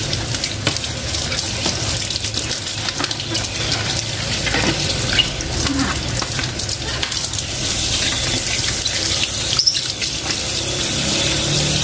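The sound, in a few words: water running from a tap, rinsing a water filter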